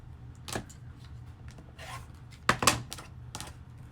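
Rotary cutter slicing through quilting fabric to square a 5-inch block, heard as a few soft, brief cutting strokes, the clearest pair close together, quiet and close with no talking.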